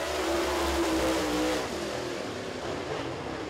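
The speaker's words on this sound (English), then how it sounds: "Three cars will take the green." Race cars at Boyds Speedway in a fast car dash roar off the start, a loud engine surge with rising pitch that eases back after a second and a half into a steady drone.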